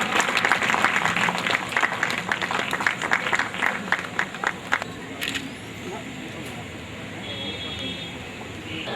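Audience applause at a women's empowerment society award ceremony in Delhi, a dense burst of clapping that fades out after about five seconds, leaving a murmuring hall with a few scattered noises.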